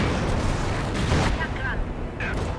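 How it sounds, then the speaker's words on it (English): Airstrike explosions in a war video game arrive as a dense roaring rumble with several heavy booming bursts, loud and sustained, while game voices come through faintly in places. "Airstrike has been authorized"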